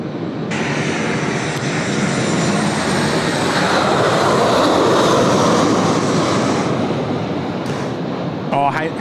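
A jet airliner takes off at Sydney Airport with a loud, steady engine roar that swells and holds for the whole stretch before a brief cut at the end, with radio talk faintly present.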